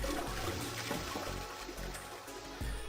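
Toilet flush in Zero Escape: 999, a rushing, gurgling water surge that stays fairly even and close throughout, with churning low swirls and no voices.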